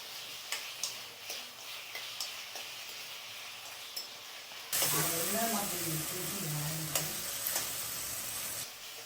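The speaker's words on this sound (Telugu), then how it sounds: "కొంచెం నూనె వేసుకొని కొంచెం టమాటా వేసి ఉడికించుకుంటే" Tomato pieces cooking in a little oil for tamarind pickle (chintakaya tokku), a soft steady sizzle that grows louder and denser halfway through, with scattered ticks and stirring scrapes and a voice speaking over it.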